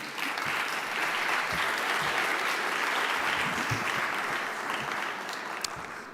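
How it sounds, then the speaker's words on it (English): A conference audience applauds at a closing session, a dense, steady wash of many hands clapping that holds evenly for several seconds at a strong, close level with no voices over it. "Join me in applauding yourself."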